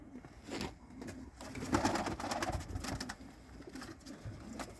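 Racing pigeons cooing nearby in a steady series of soft, throaty calls, with light background clatter throughout.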